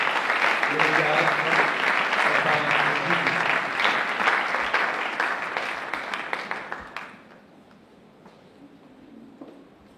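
A church congregation breaks into loud applause, dense clapping with cheers that holds for several seconds and then quickly fades, leaving a quieter room where a voice can faintly be heard.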